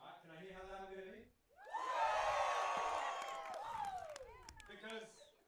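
Loud crowd cheering and whooping at a strength competition, Night of Champions III, rising after a voice speaks, holding for about three seconds, then fading back into talk.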